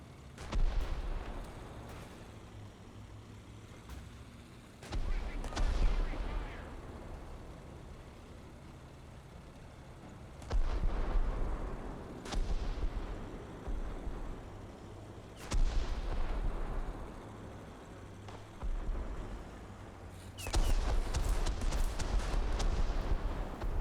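Tank gunfire booms repeatedly in the space factory game Dyson Sphere Program, five heavy blasts spaced several seconds apart, each with a rumbling decay over a low, steady engine-like drone.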